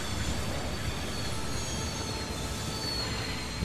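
A train rolls past in the Transport Fever 2 railway simulation game, a steady, fairly quiet rumble and rail hiss that holds evenly throughout, with faint wheel noise and no talking.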